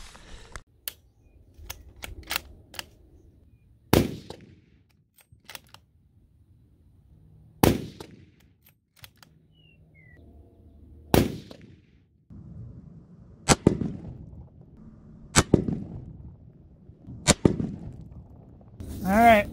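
7mm PRC rifle shots firing Hunter Precision ELD-X ammunition at a target range, seven or eight sharp, loud reports spaced a couple of seconds apart with quiet handling noises between.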